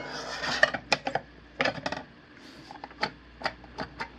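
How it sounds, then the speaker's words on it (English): The pan of an EMSON Rice Robot personal rice cooker is set into the cooker, making a series of light metallic clinks, taps and rattles that come in short clusters, close and without speech. "So, let's put the pan in."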